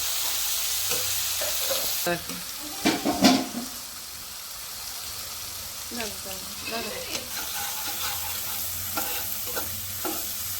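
Nigella seeds and spices fry in hot oil for a steamed fish dish, a soft steady sizzle broken by louder stirring scrapes and clatter, with a few brief voice sounds mixed in.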